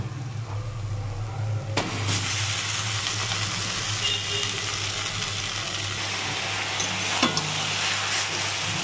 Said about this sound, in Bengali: মশলাটা ভাজা হয়ে গেছে, এবারে ম্যাগিগুলো দিয়ে দেবো।